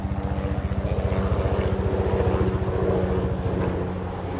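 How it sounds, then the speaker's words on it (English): Helicopters fly low over a park, giving a loud steady rotor chop with fast regular beats over a deep engine drone that fades slightly toward the end. "but now we got helicopters flying over."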